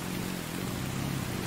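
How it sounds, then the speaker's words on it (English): Steady rain falls in a survival video game, a dense, even hiss with a low rumbling undertone that continues unchanged throughout. "Now it's raining."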